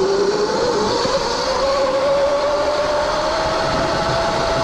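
A stock Surron electric dirt bike on a 72-volt setup is ridden at full throttle through sand. Its steady, loud electric whine climbs slowly in pitch over rushing wind noise, with no talking.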